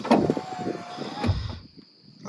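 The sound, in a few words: AMP Research power steps deploying on a Cummins truck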